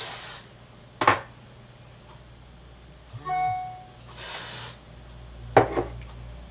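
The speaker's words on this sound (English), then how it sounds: "So I'm going to spray this side." Short hissing bursts of hairspray, one at the start and a longer one later, separated by quiet gaps, faint clicks and a brief tonal squeak.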